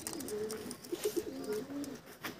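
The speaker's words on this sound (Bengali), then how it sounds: "দেখে নাও পায়রা।" Soft, close coos from desi pigeons in a loft come in a few short rolling phrases with brief pauses between them, quiet overall and with no voices.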